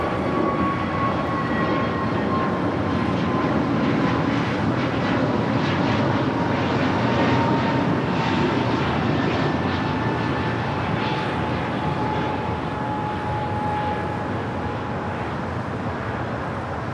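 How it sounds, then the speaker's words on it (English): An American Airlines A321neo taking off at LAX, producing a steady, loud engine roar with a high whine that sags slowly in pitch as it holds for the whole stretch. "That was American Airlines flight 271 heading to Kahului in an A321neo."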